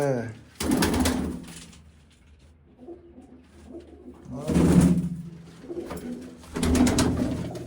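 Pigeons coo in repeated throaty bursts close by, kept in a loft or shed, with pauses between the calls and someone speaking quietly in the background.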